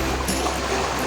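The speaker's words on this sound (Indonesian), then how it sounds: "kemudian kita celupkan ke dalam air sungai" River water flows steadily in a Banyuwangi stream as a plastic dipper is lowered in for sampling, giving a continuous close broadband rush with faint gurgling throughout the short moment.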